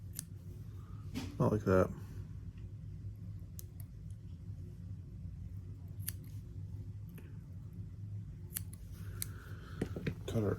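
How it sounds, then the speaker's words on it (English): Scissors snip foam legs while a foam beetle fly is tied, giving a quick cluster of sharp cuts early on and a few faint clicks afterward, under a short spoken remark. "we'll snip them off shorter"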